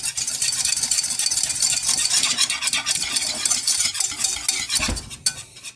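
Ground burger meat being worked by hand to fold seasonings through it, dense wet squishing and slapping in a near, busy rhythm that eases off toward the end with a soft knock.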